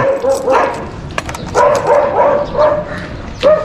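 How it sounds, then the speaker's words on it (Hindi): A dog barks repeatedly in short bursts at close range, outdoors in a residential street, with people talking faintly in the background. "ये बच्चों की वजह से भौंक रहा है ना क्या?"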